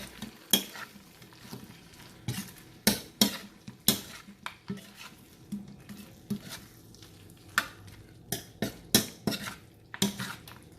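Broccoli manchurian stirred in a pan over high flame, rapid sharp clinks and scrapes of a spatula against the pan in a quick uneven rhythm over a light sizzle, close and alone.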